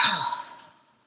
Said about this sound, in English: And breathe. Exhale it out.